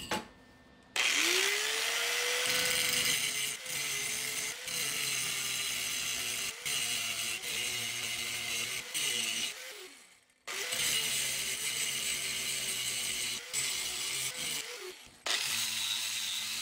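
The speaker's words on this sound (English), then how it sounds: "we want to smooth out this weld on each side so it's not as obvious" A power grinder smooths a steel weld on a hatchet door handle. It winds up to a steady, loud whining grind, drops out briefly midway, then grinds again with a sustained harsh rasp.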